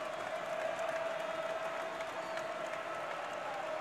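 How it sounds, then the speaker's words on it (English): Basketball arena crowd in Boone roars continuously, a dense, steady wash of cheering and clapping heard from a distance at moderate loudness, with no clear voices on top. "Listen to the crowd now here in Boone."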